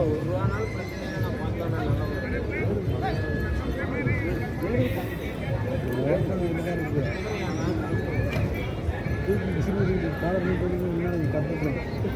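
Horses neigh repeatedly at a large goat, cattle and horse livestock market in Anthiyur, Erode district, with loud whinnies over a crowd's busy chatter, hoof clip-clops and people talking nearby.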